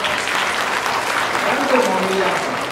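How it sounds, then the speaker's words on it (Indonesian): Audience at a medical faculty dean's address gives applause: a steady wash of many hands clapping at moderate level, with faint voices mixed in. "Tepuk tangan dulu."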